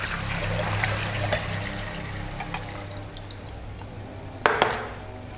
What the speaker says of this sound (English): Pour the water into your jug.